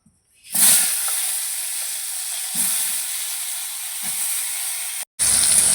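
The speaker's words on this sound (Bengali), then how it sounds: "এখন মাছের ঝোলের আলুগুলো ভেজে নেব" Potatoes fry in hot oil with a steady bright hiss, broken by a few soft thuds and stirring knocks and one brief pause.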